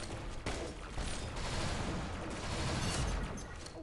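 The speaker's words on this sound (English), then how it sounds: "They're shooting me." Dense, continuous gunfire in the mobile shooter Pixel Gun 3D, a loud sustained barrage of rapid shots with no pauses and no talking.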